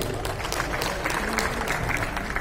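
Audience applause at a business seminar, a steady wash of clapping held at even loudness throughout with a low murmur underneath.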